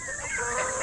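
A rooster gives a quick burst of close, clear clucking with no voices.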